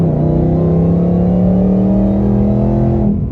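A built 2019 Mustang GT V8 engine pulls hard on a quarter-throttle hit, its loud, steady, droning exhaust note climbing smoothly in pitch for about three seconds before easing off at the end.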